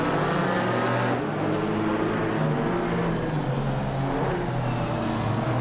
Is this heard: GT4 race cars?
yes